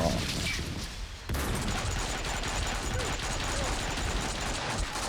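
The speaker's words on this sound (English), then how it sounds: "a lot of guys are shooting at you" Continuous gunfire from many enemies in the shooter game Max Payne 2, a dense, loud barrage of overlapping shots with a brief dip before the firing swells again and carries on steadily to the end.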